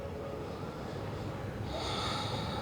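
A steady, breathy exhale during yoga breathing, soft and close, drawn out over a few seconds against a quiet background.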